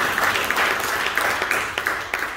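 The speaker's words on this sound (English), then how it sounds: "First clap for all the previous speakers." Applause from an audience at a business forum, a moderate spread of clapping with a few sharper individual claps standing out, steady for a couple of seconds.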